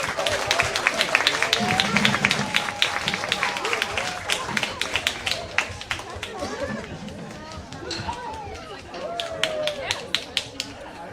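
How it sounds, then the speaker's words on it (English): An audience claps and applauds after a taiko drum performance at a holiday showcase, a dense patter of hands that gradually thins into scattered claps amid crowd chatter. "Another round of applause."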